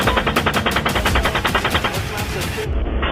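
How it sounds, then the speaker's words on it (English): Machine gun fire from a helicopter crew, a loud rapid burst of rhythmic shots lasting about two and a half seconds before cutting off, with voices over the radio faintly underneath. "Come on, fire. Hey, Roger. Keep shooting."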